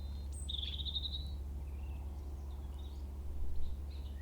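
Birds chirp outdoors in quiet natural surroundings, with one clear bright trill near the start and a few fainter calls further off, all over a steady low rumble of wind.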